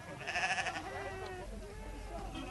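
Sheep and goats bleat at the Rehoboth small-stock auction in Namibia, where pens hold around a thousand animals. Several overlapping wavering cries come up close, loudest early, over a constant background murmur of the livestock pens.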